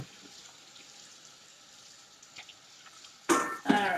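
A sponge is rinsed under a running kitchen sink tap: faint background hiss for a few seconds, then a sudden loud burst of splashing water near the end.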